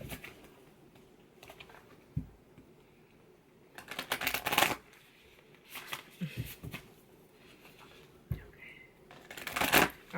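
Tarot cards being shuffled during a Sagittarius reading, heard as several bursts of crisp riffling and soft shuffling, close and fairly quiet, with pauses between and faint speech in the background.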